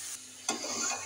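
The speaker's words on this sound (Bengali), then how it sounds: "ভালো করে নাড়িয়ে নেবো" Ghee stirred into niramish mochar ghonto, a banana flower dish, in a pan: a soft sizzle, then a single scrape of the spoon with brief frying hiss, close and quiet.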